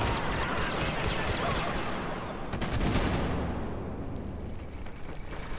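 Dense, continuous blaster and gunfire from a Star Wars Battlefront firefight, with overlapping rapid shots and bursts forming a loud, unbroken wash of battle noise throughout.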